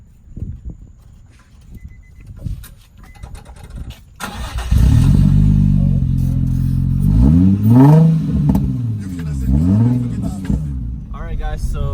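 A Nissan 350Z with a new exhaust starts up and idles with a deep, loud rumble, then is revved several times in rising and falling sweeps, close to the microphone after some earlier background noise.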